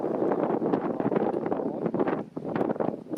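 Gusty wind buffets the microphone in rough, uneven rumbling bursts, dipping briefly before picking up again, at the Galveston, Texas cruise port as Harmony of the Seas sails away.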